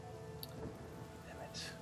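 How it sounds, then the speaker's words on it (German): Rain in the video game Divinity: Original Sin patters softly and continuously in the background, with a couple of brief brighter ticks standing out above the low, steady wash. "ich kann den Regen vertreiben"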